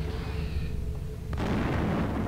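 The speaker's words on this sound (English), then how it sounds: "I threw a grenade at him, and he was right in front of me" A grenade explodes in the video game System Shock 2, a sudden boom midway that leaves a rough, sustained rumble over steady game background noise.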